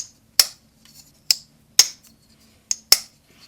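A Kizer Trestle D folding knife with a Nitro V steel blade is flicked open and snapped shut several times, giving five crisp, loud, close clicks spaced about half a second to a second apart.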